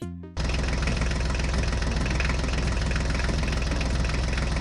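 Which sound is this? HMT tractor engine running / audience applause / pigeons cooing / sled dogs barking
HMT tractor engine running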